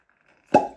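A cork pops from a bottle of homemade apple and hops sparkling wine: one soft, dull plop, close by and weak, with a brief fizzy tail and no talk.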